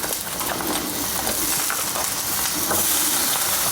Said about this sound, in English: That's what we want to hear, some nice sizzling sounds.